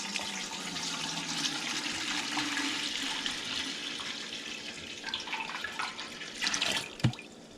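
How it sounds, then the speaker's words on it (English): Apple juice pours into a pot on a stovetop burner, a steady, gurgling splash that runs for several seconds and then breaks into a few louder sloshes and a knock near the end, with no talking. "And put the apple juice in."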